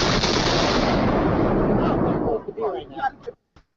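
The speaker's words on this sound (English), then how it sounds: "this explosion heard by first responders in the afternoon of 9/11 adjacent to Building 7" A loud, sustained explosive roar fills the first two seconds, then breaks off into short bursts and scattered shouting voices before falling silent; heard beside Building 7 in New York on the afternoon of 11 September 2001.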